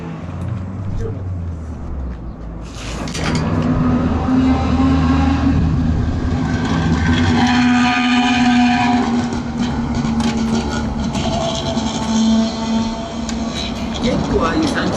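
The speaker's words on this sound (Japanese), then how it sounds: "結構ああいう3気筒の音聞くよね。" A 1964 Yamaha YA6 and other old bikes idle and rev nearby, including the buzzy, rattling note of a two-stroke three-cylinder engine, a steady loud drone with rising revs, heard under people chatting in a garage.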